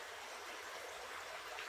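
Minister Creek in Allegheny National Forest flows as a continuous, soft, even rush of stream water, heard alone and fairly faint, with no voices.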